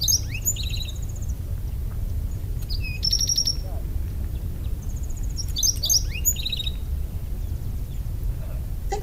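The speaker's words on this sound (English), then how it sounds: "in this bird, I'm going to give you the song, I believe, rather than the call" High-pitched, tinkling bird song of a Sonoran Desert species repeats in bright phrases over a steady low rumble of background noise, with no talking.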